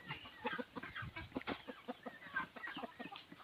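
Laying hens at a Thai backyard farm feeding on fly larvae, with a steady stream of nearby clucking and soft busy chatter from several birds throughout, no talking.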